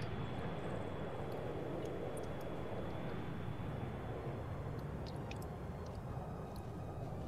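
Aircraft engines roar steadily as planes take off in Arma 3, a continuous loud broadband drone with a faint high engine whine, holding level throughout with no talk over it.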